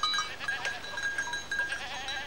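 Tauernschecken goats, an Austrian breed, bleat in a short burst of overlapping calls, fairly faint and brief, with no talking.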